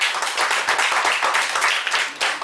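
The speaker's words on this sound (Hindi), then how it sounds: "जोरदार ताली बजाओ इसके लिए" Audience clapping at a herbal products boot camp in Manali, a dense, steady patter of many hands filling the whole stretch at moderate loudness with no talk over it.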